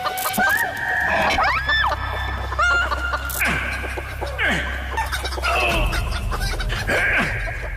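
Chickens cluck and squawk in a busy, overlapping chorus, with occasional rooster-like calls, loud and close over a low steady hum during a stunt on a reality TV show.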